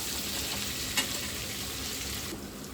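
Sliced onions frying in oil for soya salna, a steady close sizzle and crackle throughout, with one brief stir or clink partway through.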